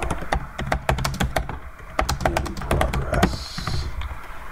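Rapid clicks on a computer keyboard as a tweet is typed, with close, crisp keystrokes arriving in quick bursts and short pauses between them.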